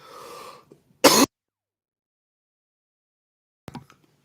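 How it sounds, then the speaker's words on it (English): One person gives a rough throat-clearing rasp, then a single sharp, loud cough, and after a pause a short, quieter cough or clearing sound, all close up with no speech. "Sorry about that. Had a cough."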